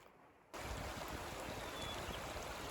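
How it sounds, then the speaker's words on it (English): Watchtower Creek flowing in the Watchtower Basin backcountry, a steady, close, full rush of water that starts abruptly after a quiet half-second and runs on evenly to the end, with no voices. "This is down at the creek here, Watchtower Creek."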